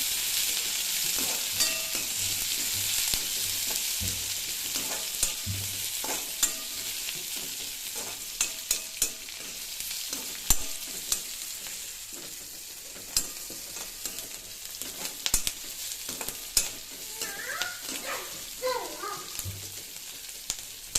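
Sliced onions frying in a pan for a quick snack, a steady broadband sizzle with frequent stirring clinks and scrapes of a spoon against the pan, sporadic near pops, and no talk.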